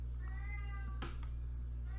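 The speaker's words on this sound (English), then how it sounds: "My cat is meowing." A pet cat meows indoors during a home geology lecture recording, a short series of drawn-out mews under a low steady hum, with one brief louder burst near the middle.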